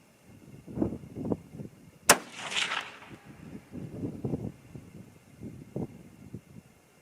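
A single sharp rifle shot from a Christensen Arms MPR chambered in 6.5 Creedmoor cracks out loudly, followed by a brief rumbling echo, amid low background murmur and scattered handling noises.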